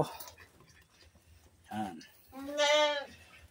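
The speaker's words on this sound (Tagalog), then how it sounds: "siyang mga kambing ko ngayon" Goats being fed fresh grass let out two distinct bleats, a short one and then a longer, louder wavering call, over a quiet background.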